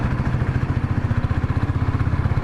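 A modified Royal Enfield Thunderbird motorcycle engine runs near 4,000 RPM with loud, steady, rapid thumping pulses and a rattly vibration, heard up close without talk.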